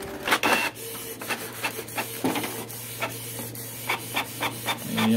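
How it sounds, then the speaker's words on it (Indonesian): A Canon 2770 inkjet printer with a continuous ink supply system prints a test page nearby, giving a steady motor hum under repeated rhythmic mechanical clicks and swishes as the print head moves back and forth. "Langsung saya print spek ya."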